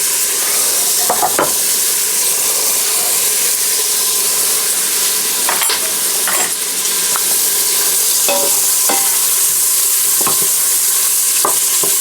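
Butter beans with ham and onions cooking down in a pot of rendered fat give a steady, close sizzle and hiss for the whole stretch, broken by a few sharp clinks and stirs.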